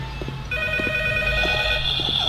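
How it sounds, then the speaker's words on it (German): A telephone rings in the horror video game Silent Nights, a sustained electronic ringing tone starting after a brief low rumble and holding steadily to the end. "Oh Gott, das Telefon."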